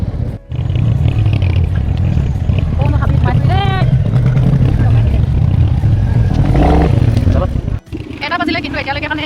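Jammed road traffic on the way to the Bogibeel youth festival: a constant motorbike and car engine rumble with occasional horn toots, under nearby talking.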